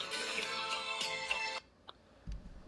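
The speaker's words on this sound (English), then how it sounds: "Don't y'all like her ringtone?" A phone ringtone plays a bright melodic tune for about a second and a half, then cuts off, leaving a few faint knocks and handling sounds.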